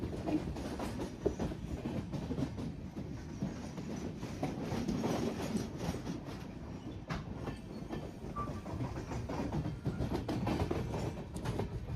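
The 10115 Madgaon Express runs along the Konkan Railway in monsoon weather between Mumbai and Goa, a steady, fairly quiet rolling rumble of the train with faint rhythmic wheel clatter throughout.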